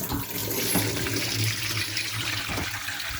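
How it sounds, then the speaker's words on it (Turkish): Water is poured over homemade green olives, making a continuous splashing, gurgling pour that stays close and fairly loud throughout the short span with no voices. "İki tane su dökeceğiz arkadaşlar."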